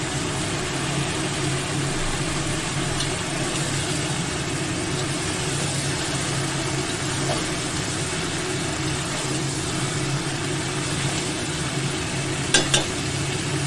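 Vegetable curry frying in a pan, a continuous loud sizzle with faint scraping from a spatula stirring it and a few sharp clinks near the end.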